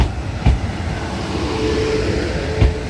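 A South Western Railway class 450 electric passenger train rumbles steadily past with a low continuous roar, two sharp clacks from the rails marking the start and end.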